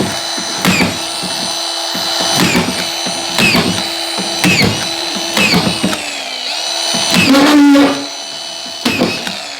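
A power drill drives screws into a drywall ceiling during a repair, in a series of short, loud, close bursts separated by brief pauses, with a higher whining spin near the end and some voice in the background.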